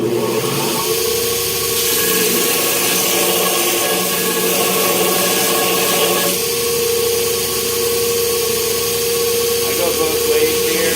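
A power belt grinder works the steel of a heat-treated chef knife blade with horizontal grinds, a loud, continuous abrasive whine and rasp whose tone shifts partway through as the blade is repositioned.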